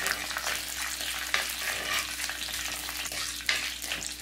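Cardamom, cloves and bay leaves fry in oil in a pan while being stirred, a close, steady sizzle with occasional sharp scrapes of a spoon, no voices.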